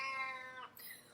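A domestic cat gives a single drawn-out meow, fairly faint and close, with a brief higher squeak at the end and no talking.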